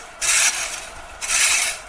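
A garden rake scrapes across the ground while tidying a garden, two distinct raspy strokes of about a second and half a second, loud and close with no talk.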